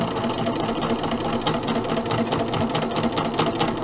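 A sewing machine runs steadily at a close, even whir, stitching a seam on a quilt block with no pauses.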